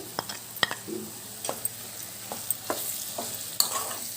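Potatoes frying in a pan with chana dal paste for patoli, a steady close sizzle with sharp clicks of a spoon stirring against the pan at irregular intervals.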